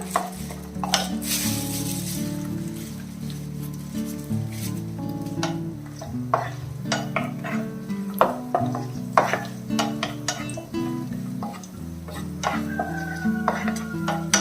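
Raisins fry in a pan for poha ladoo while a spoon stirs, with soft sizzling under repeated scraping strokes and sharp metallic clinks at close range.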